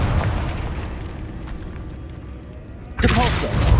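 A Confringo fire spell goes off in Hogwarts Legacy, a sudden loud booming burst arriving after a stretch of low rumbling game ambience, close and full, with the blast ringing on to the end.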